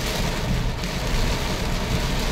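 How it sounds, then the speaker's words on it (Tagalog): Heavy, steady rain falls loudly and continuously on a dark, stormy day, a dense unbroken roar of drops with deep rumbling underneath and no letup. "Palakas ng palakas yung ulan."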